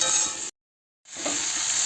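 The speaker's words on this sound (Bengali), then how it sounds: "এবার কষিয়ে নেবো টমেটোটা।" Chopped tomato with a little ground cumin, chili powder and a splash of water is sautéed in a pan, a close, steady sizzle and stir that cuts out briefly in the middle before resuming.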